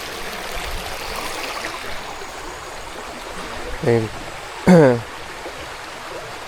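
A river stream flows steadily at a riverside campsite in Famy, Laguna, a soft continuous rush of water, interrupted by two short, loud bursts of a voice in the middle.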